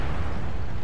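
A single booming tank cannon shot from the World of Tanks video game, loud and close, with a dense blast that fills the short moment.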